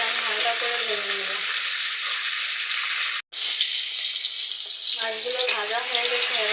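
Koi fish frying lightly in oil in a pan, a steady close sizzle and crackle that cuts out for a moment midway, then resumes as loud as before.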